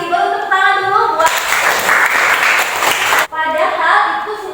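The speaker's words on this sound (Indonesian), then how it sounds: "Baru tepuk tangan dulu buat." Applause in a school classroom: a burst of many hands clapping for about two seconds, with a teacher talking just before and after it.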